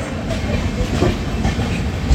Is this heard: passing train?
yes